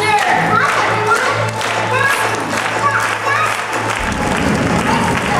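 A crowd of families claps faster and faster at a live Disney Junior stage show at Disney's Hollywood Studios, producing a dense, loud patter of hands over bright music and a performer's voice, with the backing sound shifting near the end.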